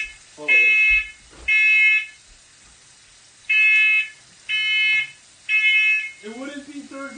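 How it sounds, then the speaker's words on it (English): A shrill smoke alarm beeps in several long, evenly spaced bursts while risotto is cooked, with a voice briefly talking between and after them. "I'm going to set off a fire alarm, as always."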